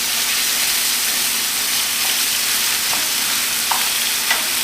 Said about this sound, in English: And we need to break up the meat.